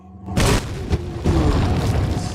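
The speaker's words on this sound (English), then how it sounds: "Let's toss a grenade down." A grenade explodes in Resident Evil 4, a loud booming blast followed by a second rumbling burst and sustained roaring decay, close and heavy, with no talk over it.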